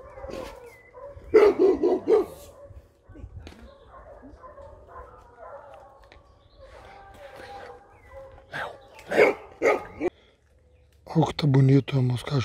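Hunting dogs barking in scattered bursts during a wild boar hunt, loud barks separated by quieter stretches, with people talking throughout.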